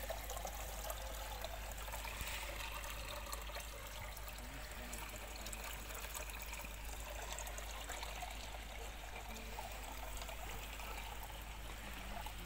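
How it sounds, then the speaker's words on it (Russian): Water trickles steadily from a spring where people collect it, a faint, even, continuous flow with no breaks. "Здесь вот водичку набирают. Источник, друзья."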